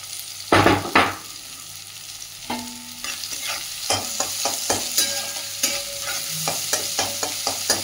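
Onions sizzle in hot oil seasoned with black cumin and dried chilli as a spatula stirs and taps the pan, giving close crackling frying under a string of sharp clacks, with no talking.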